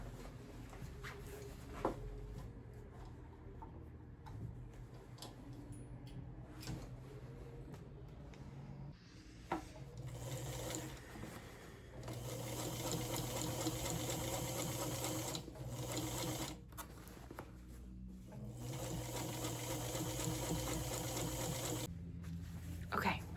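A sewing machine runs in long bursts, double-stitching a seam on thrifted overalls being upcycled, its steady mechanical whir starting and stopping with brief pauses, close and fairly loud throughout.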